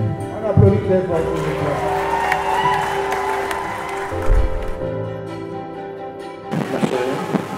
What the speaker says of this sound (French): Oui, on applaudit très fort.